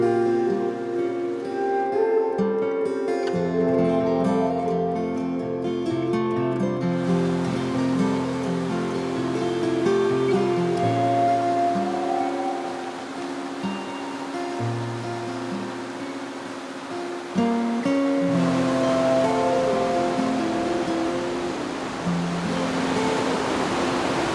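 Odegaard Falls pours with heavy summer flow, a continuous broad roar of rushing water that stays steady and loud throughout, with some tonal sound layered over it.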